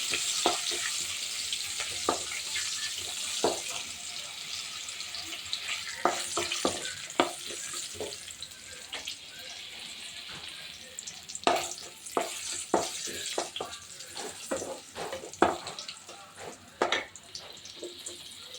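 Mustard seeds, dried chili, curry leaves and garlic sautéing in oil: a continuous crackling sizzle dotted with frequent sharp pops and spatula scrapes, growing busier and more spattery toward the end.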